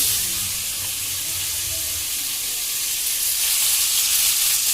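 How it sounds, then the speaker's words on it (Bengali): Potatoes and egg fry together in a pan, giving a steady, close hiss of sizzling oil with faint low stirring underneath, and nobody speaks. "आलू भाजबो, डाल डिम और आलू एक साथे"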